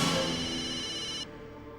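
A mobile phone rings with an incoming call from an unknown number. The bright, tonal ringtone plays alone for just over a second before being cut short.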